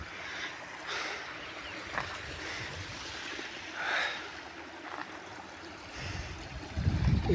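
Water trickling and flowing through a small irrigation channel feeding a terraced organic field in a hill village in Uttarakhand, a steady low burble close by with a few brighter splashes and a louder gush near the end.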